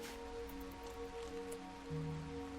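Rain falling in the video game RimWorld, a faint, steady, even patter with a low background hum and no talk.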